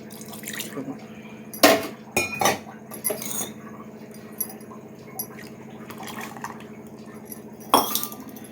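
Soft scraping and occasional metallic clinks of a spoon stirring porridge in a pot, irregular, close by, over a low steady background hum.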